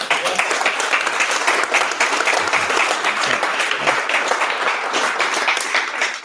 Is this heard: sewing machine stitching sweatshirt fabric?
no